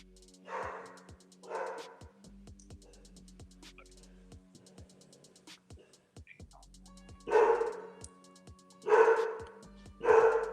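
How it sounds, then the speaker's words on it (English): A goldendoodle barks in several loud bursts indoors, a pair of barks, a pause, then three more, with whimpering and sparse background noise between them. "Can you hear my dog?"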